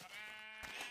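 A single drawn-out sheep bleat from a block-style survival game on a flat map, quiet and close, lasting under a second with nothing else around it.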